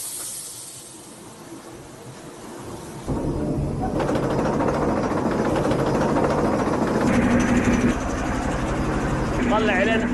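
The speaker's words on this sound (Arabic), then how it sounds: "مرحلة التجفيف، ماكينة مخصوصة لتجفيف السجاد." A carpet drying machine runs in a mosque, starting up partway through with a loud, steady mechanical roar and hiss that continues to the end, while someone talks over it.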